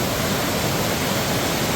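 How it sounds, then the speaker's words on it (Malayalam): A roaring river near Kalikavu in Kerala rushes past in a steady, loud, unbroken wash of water noise with no voices over it. "ഇതല്ലേ ആർത്തിരമ്പി പോകുന്ന പുഴ"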